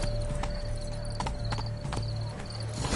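Rhythmic clip-clop of a horse's hooves galloping in The Witcher 3: Wild Hunt, Blood and Wine expansion, steady repeated beats close by over a faint background hum.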